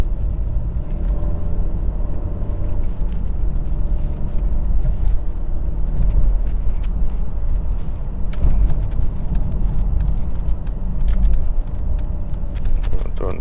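A 2022 Mercedes GLE350 4matic SUV drives along with a steady low engine drone and road rumble, muffled inside the cabin, with a few light rattles and a person talking over it.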